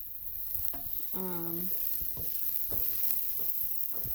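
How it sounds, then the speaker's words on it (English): Onions fry in a pan, a soft steady sizzle with a few scraping stirs; a brief tonal squeak stands out partway through. "so onions cooking"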